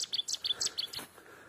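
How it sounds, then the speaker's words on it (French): Birds chirping outdoors on a fine, mild day: a quick series of short, bright tweets, close and clear, with no talking. "T'écoutes des oiseaux?"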